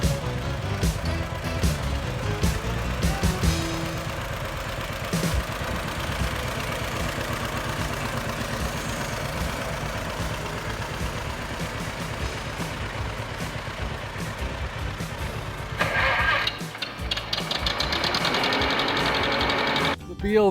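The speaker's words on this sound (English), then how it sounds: "Tony's got a 1945 John Deere Model H, and this is a gas tractor" A 1945 John Deere Model H gas tractor engine runs steadily and fairly loud throughout, with a continuous low mechanical drone and some brighter clatter toward the end.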